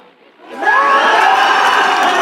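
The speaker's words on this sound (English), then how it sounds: "You'll tell by the crowd here, vocal home crowd." A vocal home crowd at a country Australian football match between Wangaratta Rovers and Yarrawonga bursts into loud cheering and whooping after a quiet moment, then holds a sustained roar.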